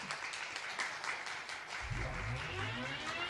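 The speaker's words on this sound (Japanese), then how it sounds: "皆様大きな拍手でお迎えください" An audience in an event hall at a Kawaguchi auto race award ceremony claps steadily in dense, continuous applause, with a low hum and some murmur running underneath.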